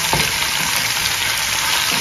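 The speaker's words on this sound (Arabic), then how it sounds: "دابا يبداو يتشحروا بحال هكا، ونقلبوهم ونقلبوهم ونقلبوهم حتى يشدوا بروفون" Chicken pieces frying in a hot pan while being stirred and turned, a steady close sizzle with scraping stir sounds throughout, no voices.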